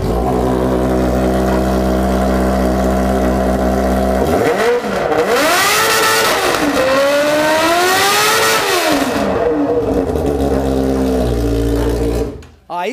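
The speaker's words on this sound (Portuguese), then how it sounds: "nós já vamos ligar o hornetão aqui pro Ricardinho dar uma acelerada." A Honda Hornet motorcycle engine idles loudly nearby, then revs hard in rising and falling sweeps before settling back to idle and cutting off, with voices briefly heard over it.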